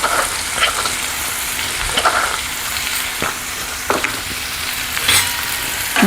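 Spices sizzle and fry in hot oil in a pan for dal tadka, a steady close crackle with occasional sharper stirring scrapes and no talk.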